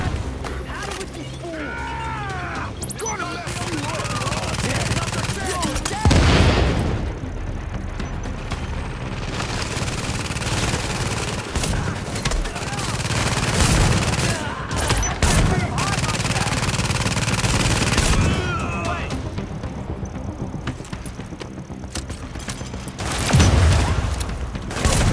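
Sustained gunfire in the third-person cover shooter The Division during a rooftop firefight, with dense rattling shots and occasional heavier booms layered under game noise, and players talking over it.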